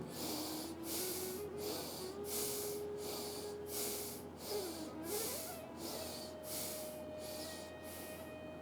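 Deep yoga breaths during a breathing exercise, drawn in and pushed out in a steady repeated rhythm of hissing airflow, soft and close, with a faint tonal hum underneath.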